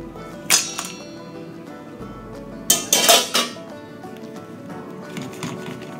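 Broccoli and ice clatter into a bowl of ice water, giving sharp clinks and splashes in two main bursts with smaller knocks between, close by and with no talk.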